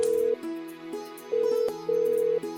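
A telephone call is placed, with a series of electronic dialing and ringing tones that start and stop in an uneven pattern, clear and alone without any voices.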